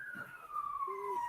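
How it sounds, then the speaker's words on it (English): An emergency siren wails nearby in a slowly falling tone, fairly faint, with a brief second tone joining and murmuring voices underneath. "Yeah, I can hear the sirens."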